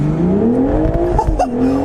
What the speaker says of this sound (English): Wheel spin? Man, this thing takes off.